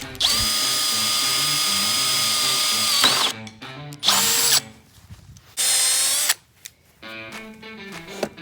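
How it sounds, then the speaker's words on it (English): A power drill whines steadily as it bores through metal axle brackets for a rolling workbench, running in one long burst followed by two shorter ones, close and loud with quiet pauses between. "drill straight through it with a drill bit that will"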